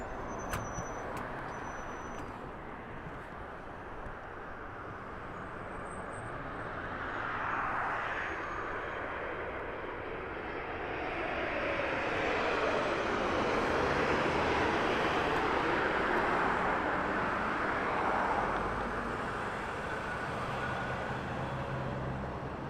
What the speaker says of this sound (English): This is gonna be Southwest Flight SWA 2079 coming from San Diego, and it's gonna be a Boeing